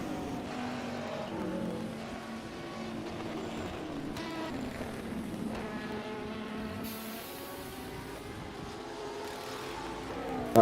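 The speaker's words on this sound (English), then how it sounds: "That 117 car making its way over the blind crest that is Stowe" A race car in a sim racing game laps Silverstone near Stowe, its engine note rising and falling through the gears as it passes, steady and moderately loud with other cars faintly behind, and no voices.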